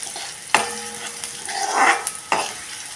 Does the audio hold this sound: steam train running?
no